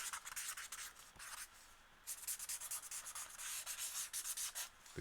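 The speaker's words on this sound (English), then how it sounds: "yeah, that nice marker sound." A marker scratches across paper in quick, close strokes, a dry rubbing rasp that comes in bursts with brief pauses, fairly quiet and heard alone with no voices.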